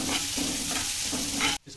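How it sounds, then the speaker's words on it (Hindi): Chopped onions sizzle and fry in a pan for red sauce pasta, a steady close hiss with light stirring throughout, cutting off briefly near the end. "ओनियन को हम हल्का सा भून लेंगे।"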